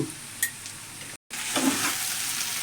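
Ivy gourd curry is stirred in a pan after turmeric, cumin powder, coriander powder and salt go in, giving a soft sizzle with scraping stir strokes and a brief break in the sound partway through.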